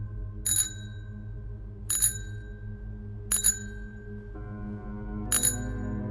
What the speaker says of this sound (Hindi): उसकी साइकिल की घंटी की आवाज अब उन्हें डराने लगी थी